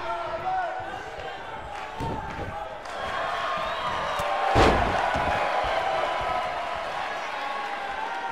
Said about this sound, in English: Luchasaurus throwing Christopher Daniels to the floor